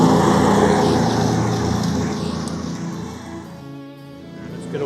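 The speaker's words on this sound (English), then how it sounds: "Get away from this lawnmower." A lawn mower cuts grass in a garden, a loud, close motor drone that gradually fades and recedes over a few seconds before swelling slightly again at the end.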